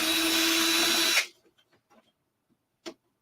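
Power driver spinning out a screw from the supporting brace of a TRS-80 Model 4P computer, a loud, steady whir that cuts off abruptly, followed by a few small clicks and one sharp knock.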